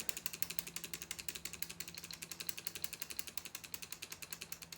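A Gearwrench locking flex-head ratchet clicks rapidly and evenly, a steady run of crisp pawl ticks, close and fairly quiet, with no talking.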